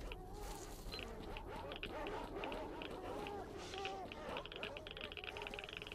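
Dogs in the video game S.T.A.L.K.E.R. yelp, whine and bark in a busy cluster over a constant background rumble, moderately near and continuing throughout.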